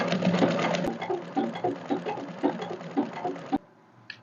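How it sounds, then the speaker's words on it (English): A sewing machine stitching down the band of a one-strap ball gown, a fast rhythmic mechanical chatter close by that runs steadily, then stops, followed by a brief click. "I'm going to sew it down now and turn it over"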